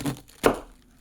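A knife chops once through a vegetable on a cutting board while vegetables are cut into pieces for a Soviet-style chickpea and beef soup, a single close, crisp thunk.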